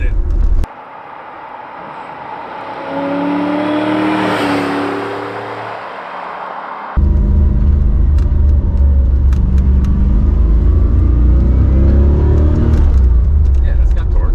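A 1986 C4 Corvette accelerating hard in first gear, its engine swelling into a loud, rising roar and then holding a steady heavy rumble close by, with people talking over it.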